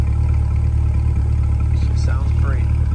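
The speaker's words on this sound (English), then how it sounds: "there's your MPP exhaust at idle." A 2020 Corvette Stingray coupe with the MPP exhaust idles, a steady deep rumble close by with a brief sharper chirp near the end, heard alone without talk.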